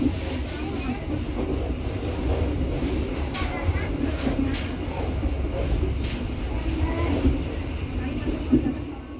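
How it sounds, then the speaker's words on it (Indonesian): Local Merak passenger train in Indonesia pulling into Cikesa station, a continuous low rumble and rattle of wagons throughout, steady and close, with faint voices murmuring underneath. "kereta api lokal Merak saat ini sudah sampai di stasiun Cikesa"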